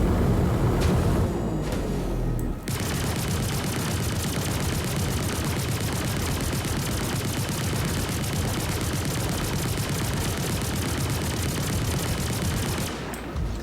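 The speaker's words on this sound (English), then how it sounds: "we are leaving arms zone, so now we can fire" Anti-aircraft guns firing in a naval combat video game, a loud sustained burst of rapid automatic fire close up, running nearly unbroken for over ten seconds with no talk.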